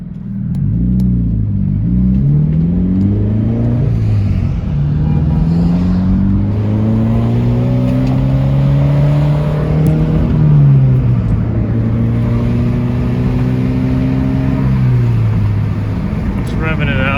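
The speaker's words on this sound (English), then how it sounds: "So I figured I'd record some exhaust clips from the inside, and this is with the window down" From inside a Subaru BRZ with a muffler-delete exhaust and the window down, the engine rumbles loudly and revs repeatedly, pitch climbing and falling several times.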